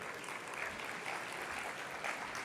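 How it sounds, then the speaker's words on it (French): A conference audience applauds steadily throughout, a dense, even wash of clapping at moderate distance with no break. "Sous vos applaudissements, s'il vous plaît"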